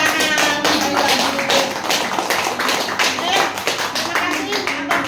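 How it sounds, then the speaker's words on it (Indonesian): A group of teachers at a deep-learning teacher training session claps together, producing dense, rhythmic bursts of hand claps at close range, with voices mixed in underneath. "Tepuk tangan."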